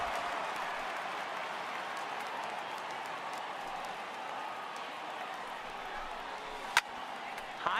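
A baseball stadium crowd in MLB The Show 18 murmurs and claps at moderate level with a steady wash of noise, one sharp crack near the end.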